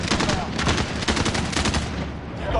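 Dense rapid gunfire from Call of Duty Warzone, loud and close, a steady burst of overlapping shots that fills the whole moment with no break.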